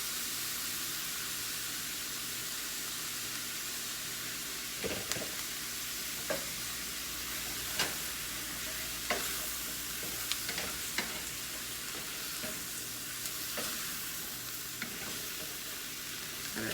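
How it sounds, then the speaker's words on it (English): Steady sizzling of meat frying in a pan as flour is stirred in for carne guisada gravy, with scattered utensil scrapes and clicks over a continuous hiss. "Keep mixing. Let's cook that flour."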